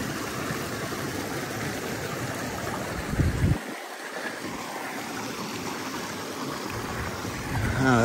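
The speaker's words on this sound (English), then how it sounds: "There's a nice creek crossing with a makeshift bridge." Water rushes steadily at a creek crossing on a mountain hiking trail with a makeshift bridge, a continuous broad wash of flowing stream heard close, with a brief louder splash partway through.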